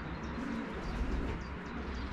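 Racing pigeons coo softly, low and steady, over a constant background hum, with faint higher bird chirps now and then.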